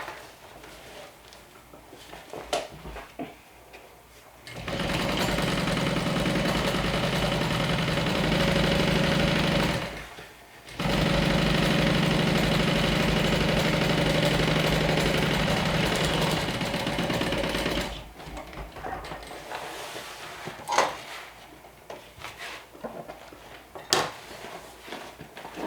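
A sewing machine top-stitches fabric during interior bag assembly, running in two long steady bursts of rapid mechanical chatter with a brief pause between, close and loud, with quieter handling noises before and after.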